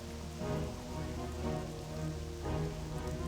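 Steady rain falls across an outdoor area in World of Warcraft Classic, a dense continuous hiss with soft surges of droplets, heard alone without voices.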